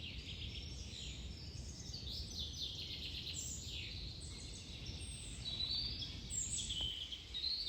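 Several birds sing and chirp through a quiet summer forest, their bright, faint calls overlapping continuously over a soft background hush.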